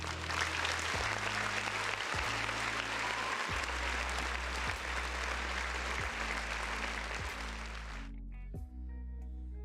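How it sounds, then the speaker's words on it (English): Applause, likely a canned effect on a gaming talk stream, plays as a dense, even wash of clapping over a repeating low musical bass pattern, then cuts off abruptly near the end, leaving the music. "round of applause for the folks in the chat."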